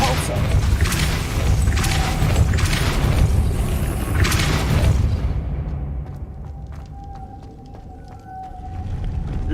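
Depulso spell cast in the video game Hogwarts Legacy, a loud whooshing magical blast with a booming rumble that fades out, over dense game ambience.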